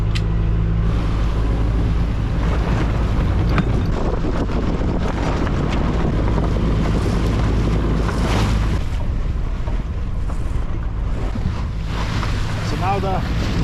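Sailboat motoring under engine on the North Sea toward Shetland, with the genoa being furled; a steady low engine drone under loud wind noise and sea wash, punctuated by flapping and creaking, with brief talk.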